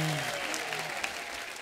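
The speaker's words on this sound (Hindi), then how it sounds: "मेरी माँ के लिए जोरदार तालियां।" Studio audience applause at a Diwali comedy show, a short burst of clapping and crowd noise fading quickly, fairly faint and slightly distant.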